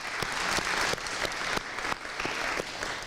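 A full round of applause at a university honors convocation, sustained and dense throughout, with sharp individual claps standing out from the steady crowd noise.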